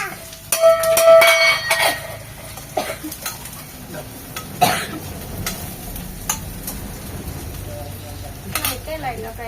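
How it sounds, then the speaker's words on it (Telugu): Onions fry in a pan at home while a spatula stirs them, making a sizzle with scraping and clinking of utensil against metal, loudest near the start. A brief voice and some light kitchen clatter come in over it. "అయితే లైట్గా ఫ్రై అయిపోయినాయి."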